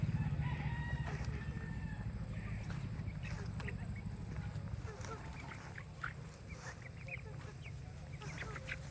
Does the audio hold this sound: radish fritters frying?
no